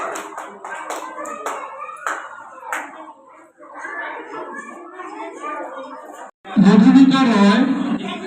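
Audience at a prize distribution ceremony clapping; scattered claps under talk, then a burst of loud applause near the end.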